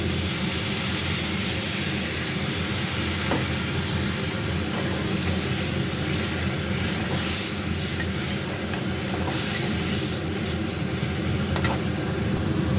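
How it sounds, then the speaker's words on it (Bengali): Spice paste of turmeric, cumin and coriander fries in a pan with a little water, giving a steady, close hiss and sizzle with faint stirring scrapes throughout. "দিয়ে দিয়েছি হলুদ, জিরে, ধনে। তো এই অল্প অল্প করে দিয়েছি, দিয়ে এগুলো কষে নেব একটু জল দিয়ে।"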